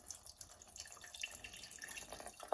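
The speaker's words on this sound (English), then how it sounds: "I've decided to strain it into a saucepan with a pouring lip" Mulled cider syrup poured and strained into a saucepan with a pouring lip in a home kitchen, giving a steady trickling, splashing liquid flow that runs close and moderately loud throughout, with a brighter clink near the end.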